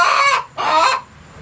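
A chicken at a horse barn gives two loud, close squawking clucks in quick succession, followed by quiet.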